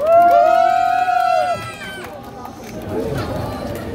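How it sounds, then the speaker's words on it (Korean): A street-busking crowd in Hongdae cheers and shouts together in a loud burst of raised voices, then settles into a softer murmur of chatter. "다들 환호해 주시고 호응해 주시면 좋겠습니다"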